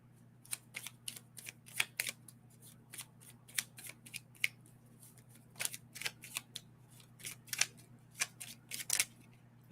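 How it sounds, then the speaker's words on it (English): A deck of oracle cards is shuffled by hand, giving irregular bursts of crisp riffling and slapping clicks, close and distinct, with quiet gaps between flurries. "So half the deck falls out."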